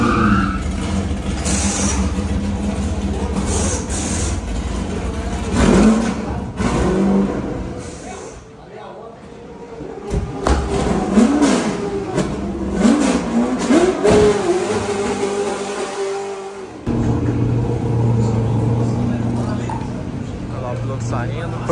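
Stock Car Brasil race cars competing at the Goiânia circuit, engines revving and roaring past in waves with rising and falling pitch, loud and continuous under an excited commentator's talk throughout.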